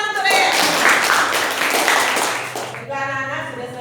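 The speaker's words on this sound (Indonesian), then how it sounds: "tepuk tangan untuk Reyes." Schoolchildren in an Indonesian classroom clap together for a classmate, a short burst of mixed clapping under an adult voice, fading as talk resumes.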